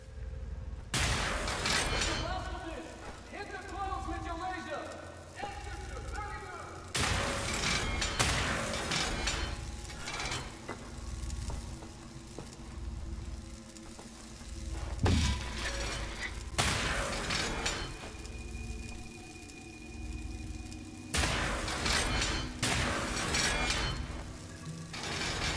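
Gunfire from the video game Wolfenstein: The New Order, heard as several loud, dense bursts spread across the clip, broken up by mechanical clinks and ratcheting weapon noises, with a steady game ambience underneath.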